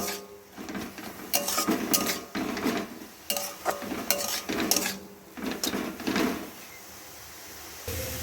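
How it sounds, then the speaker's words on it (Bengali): A spoon scrapes and clinks against a pan while papaya is mixed with cumin and coriander powder, in repeated bursts of stirring with short pauses, close and fairly loud with no talk. "দিয়ে খুব ভালো করে পেঁপেটার সঙ্গে মিশিয়ে নেব"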